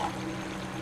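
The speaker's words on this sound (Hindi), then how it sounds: "2 चम्मच दही डालेंगे," Yogurt poured from a spoon into a mutton karahi cooking in a pan, a short, steady wet pour lasting under a second over low kitchen background.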